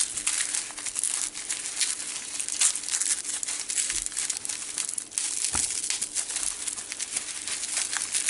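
Paper wrapping around artifacts crinkles and rustles continuously while a package is slowly opened by hand, a close, steady crackle with brief louder crunches throughout and no talking.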